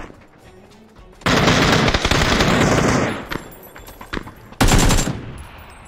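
Automatic rifle fire from the PUBG battle royale game rattles out in two loud, sustained bursts with a few scattered single shots between them, close and dominant.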